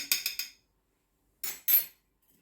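Baking powder being stirred into flour with a utensil for a savoiardi cake, heard as three quick scraping clinks, a pause, then two louder strokes, close and alone with no talk.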